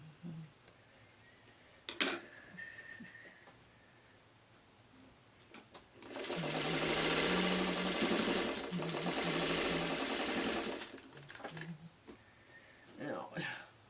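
A sewing machine runs a quilt block seam in one steady stretch of about five seconds of rapid, even stitching, preceded and followed by quiet handling sounds while a person talks.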